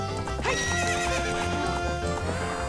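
A horse whinnies and gallops with rapid hoof clops in Zelda: Ocarina of Time, loud and continuous over a steady game soundtrack.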